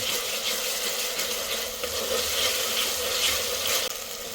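Ginger garlic paste and tomatoes fry in a pan for a chicken gravy, making a continuous, close, bright sizzling hiss with small crackles throughout and no talking.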